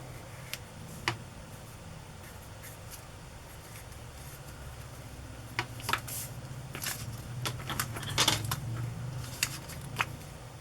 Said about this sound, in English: I'm going to draw around the heart that I have here and then cut inside the line